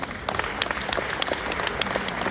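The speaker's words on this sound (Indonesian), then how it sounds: "tepuk tangan buat Allianz ya" Applause for the insurer Allianz at a testimonial gathering, a dense, steady wash of many hands clapping together from start to finish, loud and close with no pause.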